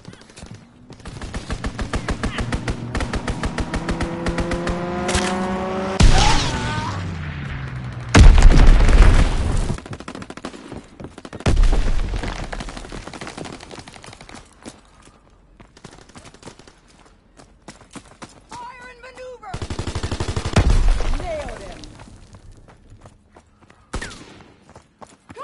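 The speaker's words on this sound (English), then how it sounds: "Strafing run inbound." Strafing run from aircraft in a PS4 video game, with loud bursts of rapid gunfire and heavy booms in several waves, close and punchy, separated by quieter stretches.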